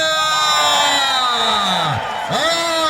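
At a traditional wrestling event at a village wedding in Shahrituz, a crowd cheers and whoops loudly for a winning wrestler. Shouts and yells rise and fall throughout, with a voice or two cutting through the din.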